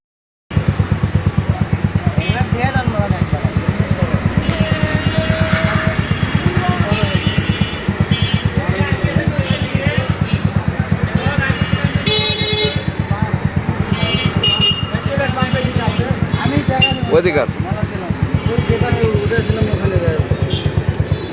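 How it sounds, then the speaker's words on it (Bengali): A modified Chinese 125cc cafe racer motorcycle idles with a steady low engine rumble close by before being ridden off, while people talk over it and a horn toots faintly in the background. "এখন বাইকটা ডেলিভারি হয়ে যাবে দেখেন বাইকটা চালাই নিয়ে চলে যাবে"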